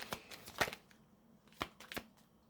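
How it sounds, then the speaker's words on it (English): Tarot cards shuffled by hand in a quiet room: several short, crisp riffling bursts with brief pauses between them, close and fairly soft, with no talking. "let's shuffle a little bit more"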